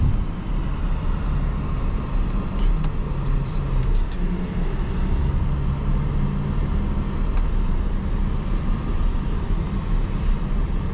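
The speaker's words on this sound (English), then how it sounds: "So now we'll change it to the" A 2020 Porsche Cayenne Coupe S in normal mode cruises at night, heard from inside as a steady, loud low engine and road rumble with a constant broadband drone and no clear rev changes.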